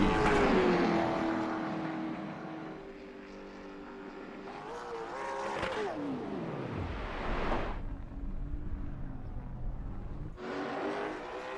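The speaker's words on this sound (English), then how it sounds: "the Nelson Roofing Chevrolet works out of turn 4 here to the start-finish line" The Nelson Roofing Chevrolet race car roars out of turn 4 toward the start-finish line, its engine note rising and sweeping past before fading, with other engine noise returning at the end.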